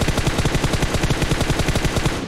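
Sustained automatic gunfire in the battle royale game PUBG Mobile on the Karakin map: a dense, rapid, evenly spaced stream of loud shots filling the whole moment without pause.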